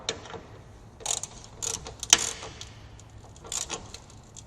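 A ratchet tightens the taillight fasteners on a 2013 Toyota Tundra. Several short, faint bursts of clicking come at irregular intervals, close by, with no talking.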